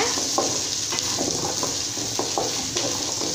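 Roasted gram, garlic cloves, dried chilies and coconut for onion kurma are sautéed in a pan, giving a continuous close sizzle with light, irregular stirring scrapes.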